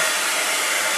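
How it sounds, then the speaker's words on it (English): A hair dryer blows a steady, loud, broadband whoosh of air with no other sounds. "So I just have my hairdryer right here."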